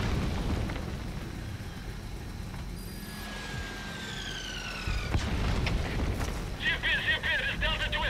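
Mortar explosions in Metal Gear Solid V land in a few heavy booms, with a falling whistle-like tone and a low rumble, followed by a burst of gunfire-like crackle near the end.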